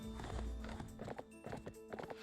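Horse hooves clip-clop in Barbie Horse Adventures: Wild Horse Rescue, a quick run of close, clear steps over a tonal game music bed, with a short whinny-like note woven in.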